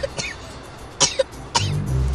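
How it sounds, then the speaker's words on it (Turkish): Three harsh coughs, close and loud, spaced about half a second apart, with a low rumble of background noise. "Ay Allah, çok öksürüyor."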